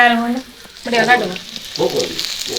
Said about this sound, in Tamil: நல்ல வடிவா வெங்காயம் பொறிஞ்சிட்டு பாத்தீங்களா